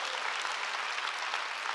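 A church congregation claps together during a Sunday worship service, a dense, steady wash of hand claps from many people filling the room at moderate level, with no voices over it.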